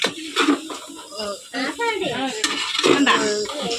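A pot of chicken curry masala stirred by hand without added water, with utensil scraping and clanking against the pot under steady, nearby talking throughout.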